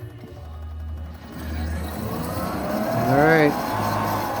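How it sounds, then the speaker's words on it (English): The drive motor of a Raymond Reach truck runs with a steady low hum, joined by a brief rising whine near the end, as someone speaks over it. "this motor now is running as it should"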